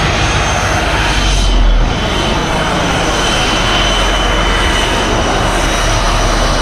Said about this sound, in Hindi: रनवे पे आ गए हैं अपने जहाज़ के पास और ये खड़ा हुआ हमारा जहाज़।